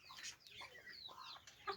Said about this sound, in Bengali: এই মুরগিগুলোর নাম হচ্ছে কোচেন